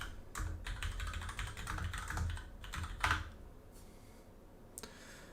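Fast clattering keystrokes on a computer keyboard, loud and close, in busy bursts that thin out into a few sparse clicks near the end.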